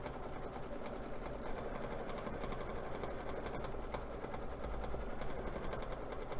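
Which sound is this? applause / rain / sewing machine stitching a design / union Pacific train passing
sewing machine stitching a design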